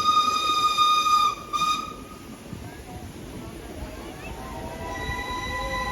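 An antique steam train stands at Nakhon Pathom station in Thailand. Sustained whistling tones and faint squeals ring over a crowd's murmur and a low rumbling background, with someone talking nearby.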